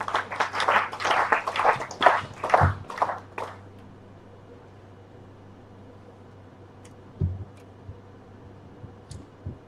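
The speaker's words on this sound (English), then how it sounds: "Please welcome him with a round of applause." An audience claps to welcome a speaker at a project closing event, a brief burst of applause for about three seconds that quickly dies away into quiet room noise with a few faint knocks.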